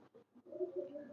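A pigeon kept for competitive pigeon flying gives one short, soft coo, a few quick pulses running into a low rolling murmur, faint and close.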